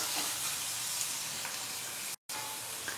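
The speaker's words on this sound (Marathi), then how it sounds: "आता कांदा आपण ब्राऊन रंगावर भाजून घेऊया" Thinly sliced onions frying in a pan until brown, a continuous close hiss and crackle at even volume, briefly cut to silence near the end before resuming.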